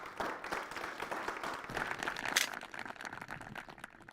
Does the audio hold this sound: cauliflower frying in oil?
no